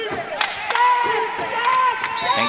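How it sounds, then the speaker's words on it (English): A basketball gym crowd at an Indians home game, steady murmur and cheers with a few sharp bursts and a high whistle-like tone, continuous over about two and a half seconds. "You hear the crowd behind me trying to get the Indians fired up"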